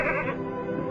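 A sheep bleats once in a pen, a loud, wavering, nasal cry close by, standing alone with no talk over it.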